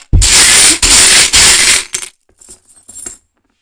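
Small charms cast onto a surface for a divination card reading, a loud close rattling clatter in two bursts, then a few scattered light clinks as pieces settle, no talking.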